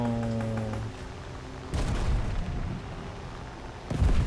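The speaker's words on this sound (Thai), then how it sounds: "อู้ยระเบิด เอ้า" Explosions go off in the War Thunder combat game during propeller-aircraft play. A tonal engine-like hum gives way to a heavy, rumbling blast, and a second loud boom hits near the end.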